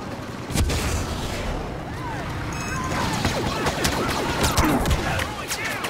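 A grenade explosion and gunfire in the Star Wars Battlefront video game: a sharp boom near the start, then dense, crackling shots and blasts throughout a loud battle, with voices talking over the action.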